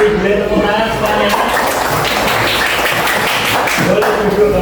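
Classroom applause from students, an uneven patter of clapping mixed with chatter and voices across the room, moderately loud and continuous throughout.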